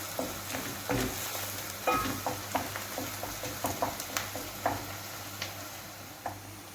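Onions sauté in a pot for vegetable bulgur pilaf, a soft continuous sizzle with a regular run of clicking stirs and spatula taps, fairly quiet and close, with no voices.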